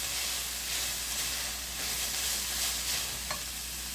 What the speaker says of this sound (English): I'm going to stir it in real quick before I add the rest